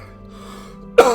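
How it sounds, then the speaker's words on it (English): A person recovering from an illness, with only a lingering cough left, lets out one sudden, loud, close cough after a near-silent stretch. "really wish I could stop coughing."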